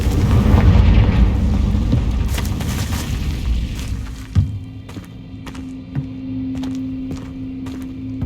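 A Confringo fire spell bursts in Hogwarts Legacy with a loud, rumbling boom that swells and slowly fades, followed by a low hum and a couple of sharp thuds.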